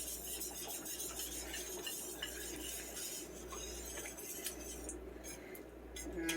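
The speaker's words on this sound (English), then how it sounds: "I'm going to go ahead and mix the onion in" Onion gets stirred into sloppy joe sauce in a pot, giving soft wet squelching and scraping with light clinks of a utensil against the pan, close and quiet, without talking.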